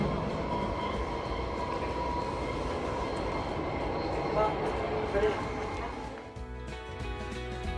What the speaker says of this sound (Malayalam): ഒരു പാനോറമിക് ട്രെയിൻ പോലത്തെ ട്രെയിൻ കേട്ടോ